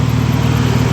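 A 2001 Nissan Xterra with a straight-piped exhaust runs steadily close by, a loud, raw, low droning engine note that holds constant with no talking.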